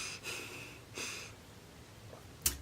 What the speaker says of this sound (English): it's just loud when I breathe through my nose